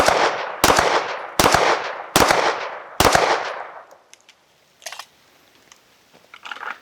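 Gunfire during recoil-control practice: five loud, sharp shots fired slowly and evenly in the first three seconds, each with a short echoing tail, then quiet with a few faint clicks and handling noises.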